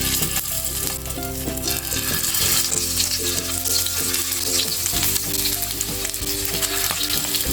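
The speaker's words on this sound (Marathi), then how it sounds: "हे आपले भरलेले पडवळ फ्राय करून घेऊया." Stuffed snake gourd frying in hot oil over a medium flame, a loud, steady sizzle that continues without a break, with faint scraping as the pieces are stirred and turned.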